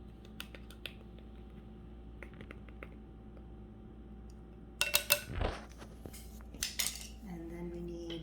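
Adjustable measuring spoons slide and click as the setting changes, producing a few quiet ticks followed by a cluster of sharper metallic clatters over a low background hum.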